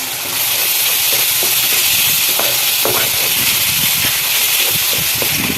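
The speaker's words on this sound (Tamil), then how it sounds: "வெங்காயம் வதங்கிடுச்சு இப்போ தக்காளி போட்டுடலாம் பச்சை மிளகாய் கருவேப்பிலை போட்டுடலாம்" Tomato, green chili and curry leaves sautéing in oil with onions in a pan, a loud constant sizzle and hiss with repeated scraping stirs of a spatula, close and without talk.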